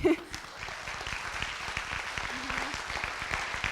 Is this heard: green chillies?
no